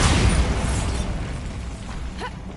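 Bombarda blasting spell in Hogwarts Legacy bursts in a loud, close explosion that hits at once and then fades into a decaying rumble with faint debris rattling.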